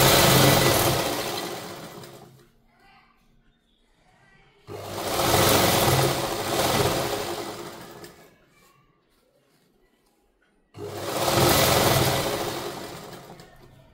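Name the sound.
sewing machine stitching a strip on a saree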